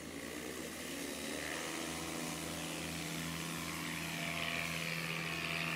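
A small single-engine propeller airplane at full throttle during a STOL competition, its engine droning loud and steady throughout as the pitch slowly rises, with no speech over it.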